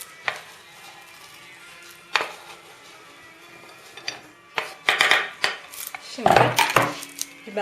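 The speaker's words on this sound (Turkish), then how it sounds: "Öncelikle soğanı doğruyoruz, ince doğruyoruz." A knife finely chops onion on a cutting board in scattered sharp knocks, sparse at first then quicker and louder toward the end.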